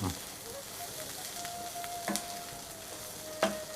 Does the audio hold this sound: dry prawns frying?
yes